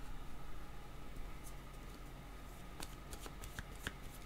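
Tarot cards are shuffled close by against a steady low hum, with quick papery flicks and snaps that cluster in the second half.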